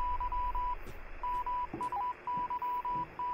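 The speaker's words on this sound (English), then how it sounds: "Doing a little Morse code right now." Morse code in a video game sounds as a steady high beeping tone, a loud run of short and long pulses with brief gaps between them, set over faint background noise.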